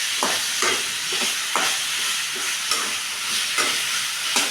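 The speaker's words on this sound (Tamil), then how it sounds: "நம்ம ஒரு எண்ணெய் ஊற்றி மிளகாத்தூள் போட்டுட்டு தாங்க உருளைக்கிழங்கு போகணும்." Round potato slices fry in hot oil with chili powder, giving a steady, close sizzle and hiss with regular scraping stirs every half second or so and no talking.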